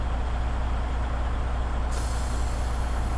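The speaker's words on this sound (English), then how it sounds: "First, I would like to test my parking brakes by releasing my trailer" Truck trailer air brakes released during a parking brake test, a loud steady hiss of air over an idling engine rumble, with a sharper high hiss cutting in partway through.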